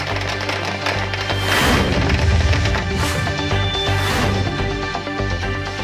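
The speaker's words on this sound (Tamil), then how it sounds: "அமமுக நிர்வாகிகளும் தொண்டர்களும் பட்டாசுகளை வெடித்துக் கொண்டாடினர்" Firecrackers set off by party workers at a political celebration in Dharmapuri, with loud, dense bursts of booms and crackles overlapping for several seconds at close range.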